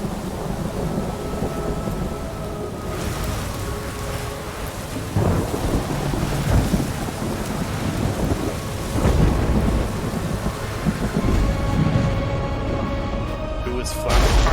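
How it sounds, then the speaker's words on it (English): A thunderstorm in the game Ori and the Will of the Wisps: steady heavy rain with repeated deep rumbles and cracks of thunder rolling in waves, loud and continuous throughout. "the storm begins"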